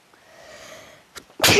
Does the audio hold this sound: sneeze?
yes